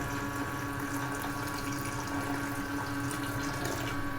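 Water pours steadily into a cooking pot of fish curry, a continuous close splashing rush with no pauses.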